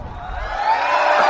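A short burst of studio audience applause and cheering for an interview guest swells steadily louder, with no talking over it.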